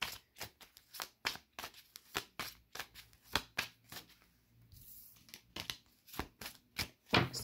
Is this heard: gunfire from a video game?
no